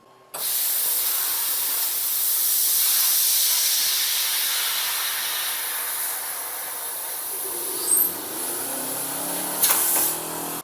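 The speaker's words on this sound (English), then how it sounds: "let's just go ahead and start cutting some 2mm sheet metal" An xTool metal fabrication laser cuts 2mm sheet metal with a loud, continuous hissing rush from start to end, with a couple of brief bursts near the end.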